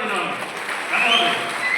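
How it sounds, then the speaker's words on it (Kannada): Crowd at a political rally clapping steadily, a broad wash of applause that holds for a moment and swells slightly near the end. "ನಾವೆಲ್ಲರೂ ಈ ಸಂದರ್ಭದಲ್ಲಿ ಮೋದಿಜಿಯವರಿಗೆ ದೊಡ್ಡ ಮಟ್ಟಕ್ಕೆ ಚಪ್ಪಾಳೆ ಕೊಡಬೇಕಂತ"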